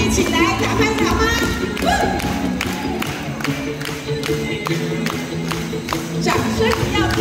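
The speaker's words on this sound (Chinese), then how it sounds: "掌声不要停，拍子不要断" An audience at the Lion Township mango festival event in Shitoushan Plaza claps along in a steady beat, loud and close, over music and crowd noise.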